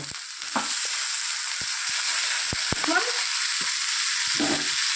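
Potato pieces sizzle in hot oil with onions already fried reddish-brown, a steady close hiss broken by scattered sharp scrapes and taps of a spatula stirring the pan, with no talking.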